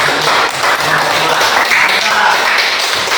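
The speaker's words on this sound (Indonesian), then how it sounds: "Tepuk tangan dulu." Students applaud in a classroom, a loud, continuous clatter of many hands clapping close by, with some voices mixed in underneath.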